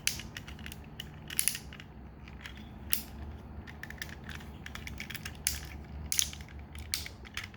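Plastic parts of a Masterpiece MP-30 Ratchet transforming toy figure being moved and plugged together, quiet close clicks, creaks and ratcheting snaps in irregular bursts.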